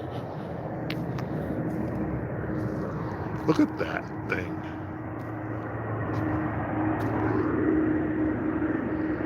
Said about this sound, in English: Away from these noisy planes.